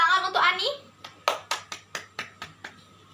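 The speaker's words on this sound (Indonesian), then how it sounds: "Tepuk tangan untuk Ani." Classroom applause for a student named Ani, about nine crisp, evenly spaced hand claps from a small group nearby, following a short burst of speech at the start.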